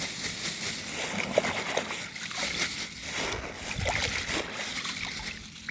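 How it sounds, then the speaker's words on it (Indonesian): NPK fertilizer being dissolved in water while seedlings are prepared, a steady close sloshing and splashing of stirred water running continuously with no clear talk. "Kita NPK ini kita larutkan ke dalam air seperti ini."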